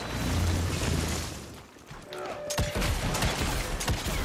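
Shotgun blasts in the video game Evil West, a few sharp loud bangs in the second half over a busy, rumbling game mix.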